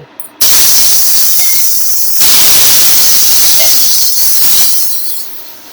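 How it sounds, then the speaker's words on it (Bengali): Eggplant fries in white oil in a wok, a loud dense hissing sizzle that starts abruptly, holds steady with slight surges and then eases a little toward the end, with no talking. "প্রথমে আমি বেগুনটাকে লাল করে ভেজে নেব।"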